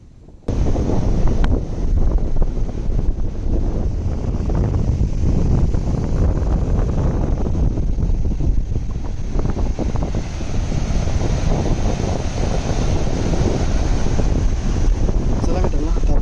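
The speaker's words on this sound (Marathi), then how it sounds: "आणि हा समुद्र कशिळईमधला." Wind and sea at rocky Kasheli beach near Rajapur, Ratnagiri, a loud constant roar of wind buffeting the microphone over the low rumble of surf, steady throughout.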